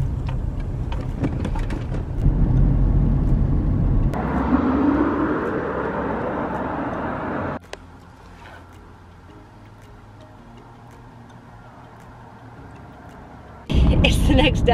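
A campervan drives along a UK road with a steady engine and road-noise drone. The noise drops to a quieter hum partway through, then surges loud again at the end.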